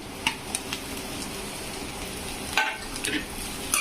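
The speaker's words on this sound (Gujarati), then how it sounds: "અને સોટે કરી લેશું તેલમાં" Capsicum and chili sautéing in hot oil for a spicy vegetable Maggi masala, a steady close sizzle with scattered sharp pops and crackles throughout, no voices.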